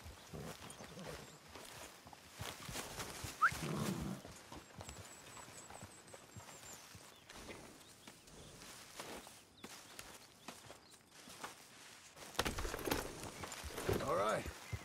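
Horse hooves clip-clopping in the video game Red Dead Redemption 2, a steady walking gait near the listener, with game voices talking over parts of it and louder ambient stretches at the end.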